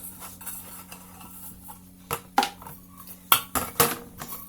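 Small metal camping cook pots clink and clatter against each other in a few sharp, close knocks, with quiet handling noise between them.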